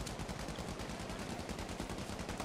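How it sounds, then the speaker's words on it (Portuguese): Dense, rapid gunfire in the video game Battlefield V rattles continuously, like automatic weapons firing in bursts, loud and close with no pauses. "foi tanto tiro que você levou agora"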